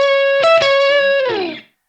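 A short, crunchy overdriven electric guitar blues lick, the opening lick of a song: a few picked notes ending in a bent note that slides down and fades out.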